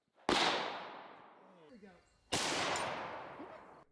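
Two loud, sharp AR-15 rifle shots about two seconds apart, fired from a lead sled at a target, each crack followed by a long fading echo.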